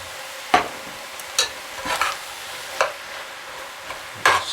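Rice and tomato soup being stirred together with softened onions in a pan, a handful of short scraping strokes spaced about a second apart over a faint background hiss, close and fairly quiet.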